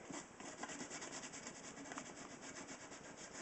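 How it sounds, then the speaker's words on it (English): Sandpaper rubbing over paint on a helmet gives a steady, dense scratchy hiss with a quick back-and-forth rhythm, close and moderately quiet, with no voices. "One of the other good things about going over it with the sandpaper is that"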